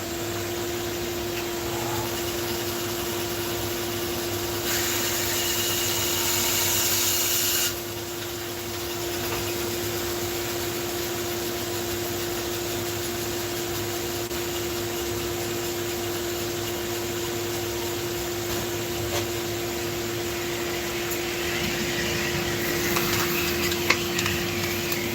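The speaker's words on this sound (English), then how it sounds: "You got to turn the vacuum on though." A shop vacuum runs in a woodcarving workshop near a bandsaw, giving a steady whining drone with a constant tonal hum. A brief burst of louder rushing noise and some rubbing scrapes come over it.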